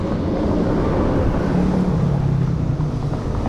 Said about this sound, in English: This avenue is always overcrowded with cars that go to the southern